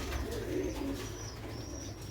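Sialkoti black-faced pigeons cooing softly in a loft, low throaty coos repeating through the stretch over faint background noise, with no talk.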